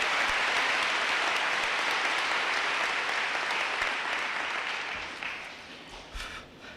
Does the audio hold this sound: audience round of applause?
yes